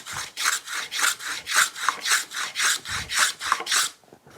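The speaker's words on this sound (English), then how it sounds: "All I did there was just planed it so I've got a nice clean edge again" A hand plane shaves a wooden edge clean in about a dozen steady, rhythmic strokes, each a close, airy rasping swish, before the motion stops.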